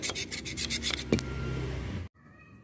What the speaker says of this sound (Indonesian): gosok aja gini pelan-pelan pelan-pelan aja sampai dia bersih